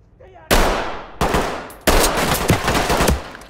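Gunfire from the Ready or Not tactical shooter, with three sharp, loud bursts that start suddenly and ring out as rapid automatic fire, the last one a longer rattling volley.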